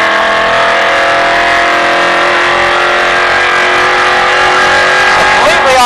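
A NASCAR stock car on the Las Vegas track roars at very close range, its engine a loud sustained drone that climbs steadily in pitch as it accelerates, filling the whole stretch.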